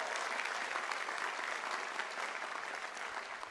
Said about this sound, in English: Come on, a round of applause.